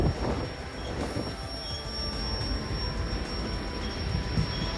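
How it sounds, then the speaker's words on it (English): White Pass and Yukon Route train heard from the rear car, a steady low rumble of wheels on rail with faint squeals and clanks, continuous and moderately loud, no voices. "reporting live from the rear of the White Pass and Yukon car crash train"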